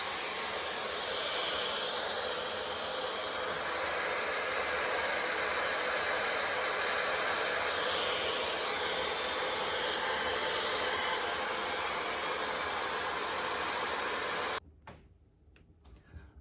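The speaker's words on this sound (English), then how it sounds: "I just get my hair in the diffuser and then do that" Hair dryer fitted with a diffuser drying hair, a loud steady broadband whoosh close by that runs unbroken for about fourteen seconds before cutting off abruptly, leaving quiet room noise.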